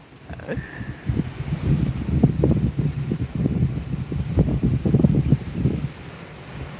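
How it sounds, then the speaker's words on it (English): Wind blows across the Lake Erie beach at Port Bruce, buffeting the microphone in loud, gusty rumbles that rise and fall continuously for several seconds before easing at the end. "You can see how windy it is by my hair blowing in the wind."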